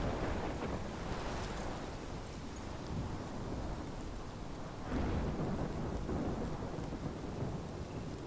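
A thunderstorm in Life is Strange: dense, steady rain roars without a break while low thunder rumbles swell beneath it, loud and enveloping, with a stronger rumble around the middle.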